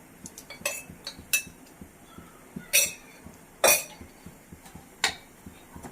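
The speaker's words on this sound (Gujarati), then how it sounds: "મિક્સ કરી લેશું ચીઝ પીગળે ત્યાં સુધી." A utensil clinks and scrapes against a pan while boiled pasta is stirred together with cheese slices, giving sharp, irregular metallic taps, some louder than others, with quieter stirring in between.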